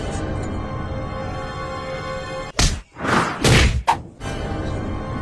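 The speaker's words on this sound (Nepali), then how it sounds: "तपाईँले त साँच्चीकै पो हान्नुभयो त हौ।" Blows land as one person hits another: a few heavy, close thuds packed into a couple of seconds, each with a sharp onset, after a quieter stretch of background.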